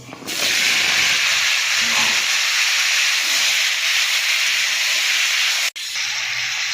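Vegetables hit a hot pan with fried shrimp and nigella seeds, setting off a loud, continuous hiss of sizzling that holds steady before a brief break near the end.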